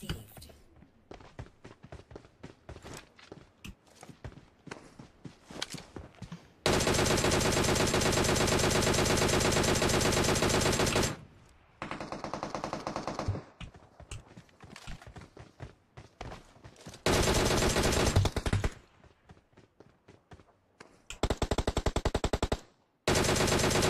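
Gunfire in the mobile battle-royale game PUBG Mobile, with scattered single shots and clicks giving way to long sustained automatic bursts, loud and close, broken by brief quieter gaps.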